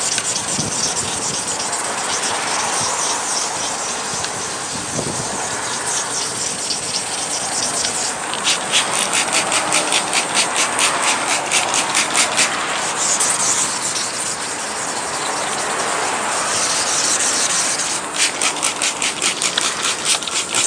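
Wet sanding of a cloudy car headlight lens with 400-grit sandpaper, a steady close scratchy hiss with rhythmic rasping strokes in short bursts toward the middle and end.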